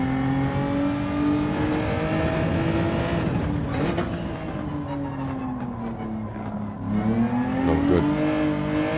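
Race car in Gran Turismo 7 at the Nürburgring, engine loud and close as it revs, drops through gears with falling and rising pitch sweeps, then climbs again, with no talk over it.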